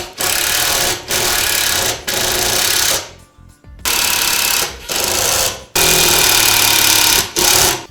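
A power driver whirs in repeated short bursts of about a second each with brief pauses between, running screws down during installation of a grille on an RZR off-road vehicle.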